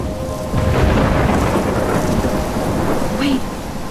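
Thunder rumbles over steady heavy rain in a Life Is Strange storm, a loud continuous downpour with rolling booms, no talking.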